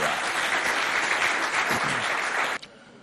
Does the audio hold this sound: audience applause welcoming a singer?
yes